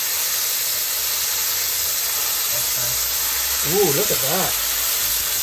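A burger patty on a hot griddle gives a loud, steady hiss and sizzle as a spatula presses it flat, with a brief voice exclaiming over the noise.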